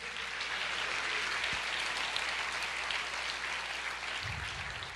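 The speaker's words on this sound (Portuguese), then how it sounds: "Você pode aplaudir o Senhor" A church congregation applauds during a sermon, a dense, steady roar of many hands clapping at some distance that holds evenly for several seconds, with a low rumble near the end.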